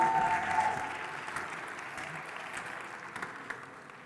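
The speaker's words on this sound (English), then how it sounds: "Big round of applause, please." An audience applauds at a startup pitch stage event, moderate clapping that starts full and slowly thins out over a few seconds.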